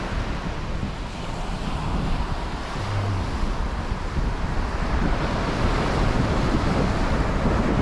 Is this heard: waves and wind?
yes